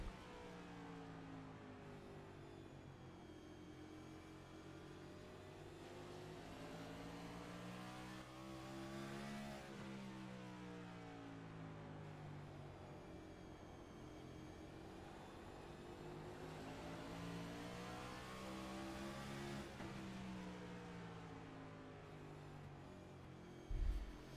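Next Gen Cup race car engines at North Wilkesboro in a racing video game, heard on board as a single car repeatedly revs up and lifts off, rising and falling pitch cycles over a steady drone.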